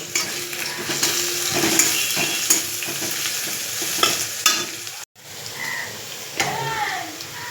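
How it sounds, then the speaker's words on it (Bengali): Chopped garlic and onion frying in oil until reddened, ahead of a taro fry, with a loud, continuous sizzle and repeated scraping of a spatula stirring the pan, broken by one brief cut. "রসুন কুচিগুলো দিয়ে দিলাম দিয়ে এবার ভালো করে লাল লাল করে ভেজে নেব"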